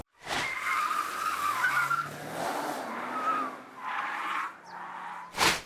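Tires of an Audi Q5 Sportback 2022 on 255/45 R20 rubber squeal and skid through a slalom test, with long tire screeches and engine noise from a car passing nearby.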